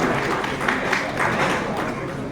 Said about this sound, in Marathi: त्यासाठी सर्वांनी प्लीज टाळ्या वाजवाव्यात